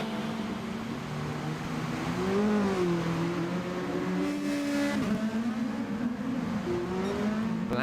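A touring car engine screams through the gears at the 2021 Track Stars Touring Cars Styrian Sprint, its pitch rising and dipping as it revs and shifts, loud and close with a brief burst of tire noise.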